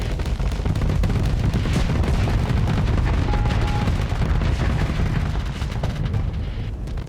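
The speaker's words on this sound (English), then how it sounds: "those are very slow-moving, heavy-hitting projectiles" Heavy, slow-moving projectiles fire in a space battle in the game Starsector, making a dense, loud, continuous barrage of booming shots and impacts that roll on without pause.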